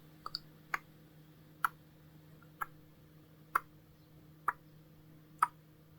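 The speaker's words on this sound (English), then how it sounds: "Listen to the ticking." A clock ticks faintly and steadily, with soft, evenly spaced clicks about once a second over a low background hum in a quiet room.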